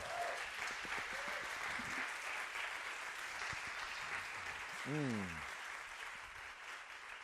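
A church congregation applauds during a sermon at Iglesia Casa de Dios, a soft, even wash of clapping that runs throughout, with a brief voice rising over it midway.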